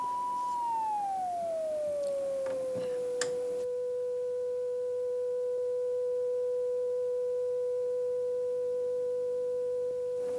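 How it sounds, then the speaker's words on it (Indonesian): A second signal generator in a physics classroom gives off a steady pure tone that glides downward for a few seconds, then holds one unwavering pitch, loud and continuous, with faint room noise and brief knocks near the start. "Dan Jilmi hidupkan yang kedua. Atur pada frekuensi yang sama"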